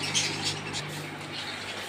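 Budgerigars and rosy birds in a pet shop give off faint, scattered high chirps and squawks over a steady murmur of shop noise, the calls brief and overlapping.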